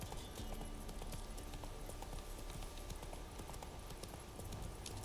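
Horse hooves clip-clop steadily through the Witcher 3 game world as the mount trots along, a continuous rhythmic pattern of hoof strikes over a constant ambient bed, with no talking.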